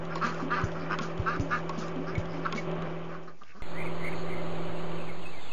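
Baby ducks in a Dora the Explorer video game give repeated short, bright quacks and peeps over a steady tonal hum. The calls fade out partway through and a louder, level music bed takes over.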